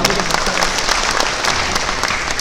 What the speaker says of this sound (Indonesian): Tepuk tangan untuk warga di Bandung.